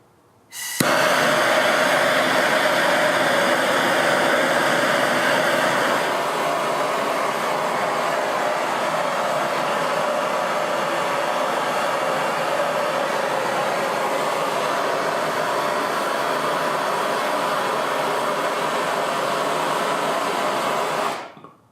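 A handheld blowtorch flame roars loudly and steadily for about twenty seconds, a broadband rushing hiss that eases slightly partway through before cutting off abruptly.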